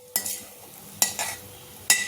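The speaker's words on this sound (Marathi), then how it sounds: "त्यामध्ये मी पिस्ता गरम करून घेते तुपावर" Pistachios roasting in hot ghee in a kadhai, three sharp bursts of stirring and sizzling about a second apart over a quiet, low background.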